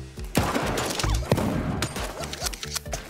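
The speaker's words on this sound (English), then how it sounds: "That shotgun shot landed." Shotgun blasts ring out in the video game Super Animal Royale, several sharp loud bursts in quick succession amid dense in-game combat noise.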